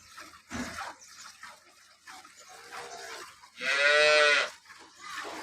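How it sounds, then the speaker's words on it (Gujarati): A local-breed cow, four days after calving, gives one loud, drawn-out moo nearby after a few quieter rustles and shuffles, then the scene settles back to low background noise. "આપણે ત્યાંની લોકલ ગાયો છે ગરમી ન લગાડે તેવી ગાયો"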